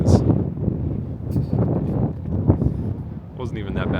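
Strong wind roars and buffets the microphone on top of Stone Mountain, loud and gusty, with a voice partly heard beneath it.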